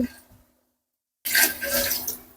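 Water pours loudly and close up into a pot for basmati rice chicken biryani, a steady splashing rush that begins suddenly after a near-silent pause and keeps flowing to the end.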